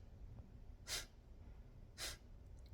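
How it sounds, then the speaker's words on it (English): Two sharp, forceful nasal exhales of Breath of Fire breathing, each a brief airy burst about a second apart, close and soft against a faint background. "Sharp staccato exhale, snapping the belly back"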